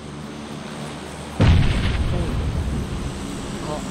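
A sudden heavy video game explosion erupts partway through, followed by a long rumbling roar that slowly fades, with faint chatter in the background.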